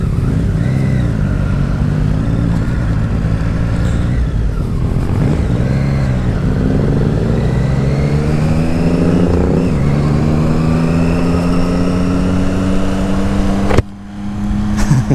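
A Triumph Street Triple 765 motorcycle rides in a convoy of motorcycles, its engine droning loudly and continuously with rising and falling revs and heavy wind rush, no talk.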